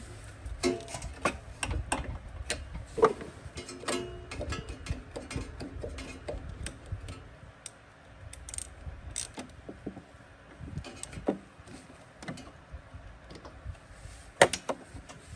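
Metal ticks, clicks and ratcheting as an NGK spark plug is threaded back into a Honda Harmony lawn mower engine, a scattered run of close, sharp taps and turns with no talking.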